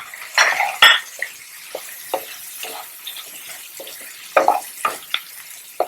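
Ground masala for kadai paneer is stirred and fried in a kadai with a metal spoon, giving irregular scraping strokes and sharp clinks against the pan over a soft sizzle, close up with no voices.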